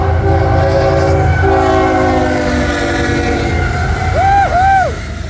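A loud, close train horn sounds in long sustained blasts over the rumble of a passing train, ending with a couple of short, bending toots.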